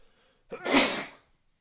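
One sharp, forceful human sneeze, close and loud, with a quick intake of breath and a burst that fades after about a second. Nothing else is heard.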